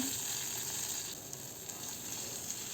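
Chopped small onions sizzling steadily in hot oil for a gourd buttermilk curry, a continuous close hiss with faint stirring and no talk.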